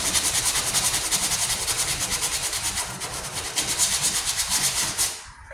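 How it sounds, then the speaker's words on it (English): A sanding block strokes back and forth over a 1998 Ford Ranger tailgate during rust repair, a rhythmic raspy scrubbing repeated in quick even passes, close and loud, stopping just before the end. "I'm not putting any pressure on this sanding block. I'm just letting the weight of the block do the work."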